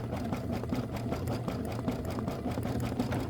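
An embroidery sewing machine stitching a tack-down over fringe on a decorative hot pad, a steady rapid mechanical whir with regular needle pulses, close and continuous.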